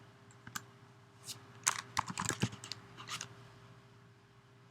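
Keys clatter on a computer keyboard as someone types an entry into a form: sparse, uneven clicks in short bursts, close and fairly quiet over a low steady hum.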